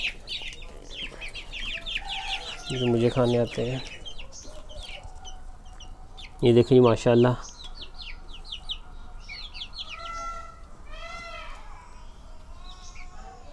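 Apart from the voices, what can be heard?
chicks clucking at feeding time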